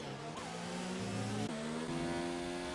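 Formula One cars racing in the F1 2019 game, with several high whining engines shifting pitch as they rev and change gear, layered together in a steady, fairly quiet drone.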